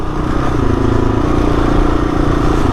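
A Kawasaki KLR dual-sport motorcycle with a Cogent rear shock rides over sandy bumps and lifts into a small wheelie, its engine a loud, close, steady rumble mixed with wind and chassis clatter.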